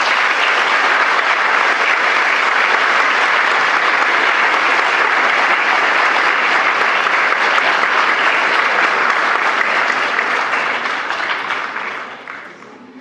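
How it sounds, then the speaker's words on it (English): A school awards-ceremony audience applauds its prize winners, with dense, steady clapping filling the hall at full volume before thinning and fading out near the end. "Could you please give our winners a round of applause?"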